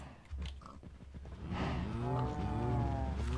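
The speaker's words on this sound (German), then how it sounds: "Irgendwas stimmt mit den Kühen nicht. Die scheinen etwas unberuhigt zu sein." Cows in the video game Minecraft moo: one short low call followed by a longer drawn-out moo, clear and fairly close, without talk over them.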